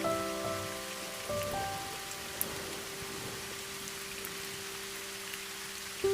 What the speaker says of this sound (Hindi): और अभी बारिश हो रही है अच्छी वाली प्रॉपर